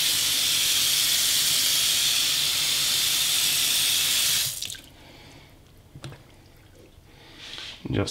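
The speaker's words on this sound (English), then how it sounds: "Just rinse it with water." Tap water rinses a telescope mirror in a loud, steady, hissing stream for about four and a half seconds, then shuts off, leaving a few faint handling knocks and splashes.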